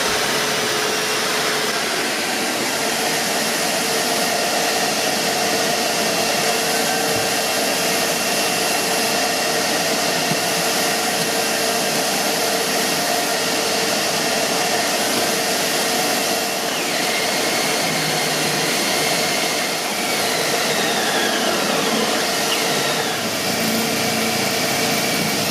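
A power tool fitted with a flat blade bores a deep hole into a boat's toe rail, giving a steady, loud, high-pitched whine and grinding drone that runs unbroken for the full duration.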